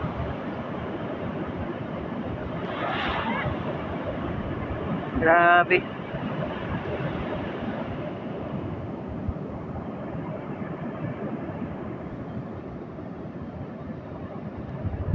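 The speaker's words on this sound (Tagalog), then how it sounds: "Yan, sobrang laki ang mga alon." Large ocean waves surge and crash along a shore in steady broadband roar with wind buffeting the microphone, while a person speaks briefly over the rushing water.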